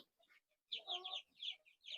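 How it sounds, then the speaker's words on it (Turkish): High, thin peeping calls from three-day-old ornamental chicken chicks come in quick bursts, close and fairly quiet, with short gaps of near silence between them. "Bu civcivleri 3 gün önce çıktılar"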